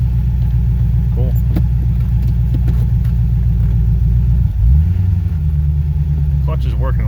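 A C4 Corvette engine runs close by with a loud, steady low rumble and a brief revving shift midway, while someone talks over it.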